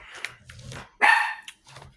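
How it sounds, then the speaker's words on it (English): A dog barks at its own reflection in a refrigerator door indoors, giving several sharp, close barks in irregular bursts, one louder and longer than the rest. "You can bark at your reflection in the refrigerator or you can't."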